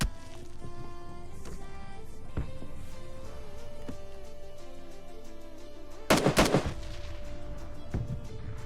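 Scattered PUBG Mobile Lite gunshots pop at intervals, then a sharp burst of rapid automatic fire cracks out, over a steady low game soundtrack hum.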